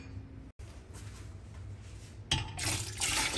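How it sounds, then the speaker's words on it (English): Water being poured from a stock dish into a pot for chicken soup makes a close splashing, gurgling pour that grows louder and brighter toward the end after a brief break. "I just put the water in the dish that I had the stock in."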